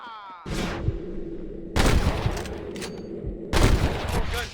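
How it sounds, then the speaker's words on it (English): Bursts of gunfire from Red Dead Redemption, three loud clustered volleys of rapid cracks and booms separated by short lulls, with a faint whistling tone at the start. "Gunshots."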